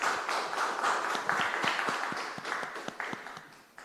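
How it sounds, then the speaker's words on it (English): An audience at an afternoon session of Curaçao Expo Week 2023 applauds warmly, a dense steady round of clapping that slowly fades toward the end, with no talking. "A warm round of applause."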